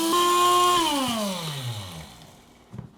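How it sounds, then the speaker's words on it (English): Small homemade electric grinder grinding bay leaves, a loud high whine that drops steadily in pitch as the motor winds down, then fades out with a faint knock at the end. "So I'm going to grind that bad boy up with my homemade grinder."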